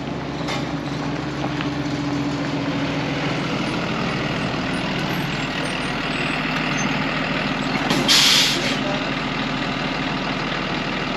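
Shuttle bus at a Denali National Park stop, its heavy diesel engine idling steadily and close, with a brief hiss of air brakes released partway through.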